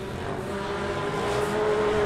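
UTV racing trucks with 35-inch suspensions climb a hill on a snowcross and UTV race course at Chicopee, a steady engine drone with a rising whine that builds slightly louder toward the end.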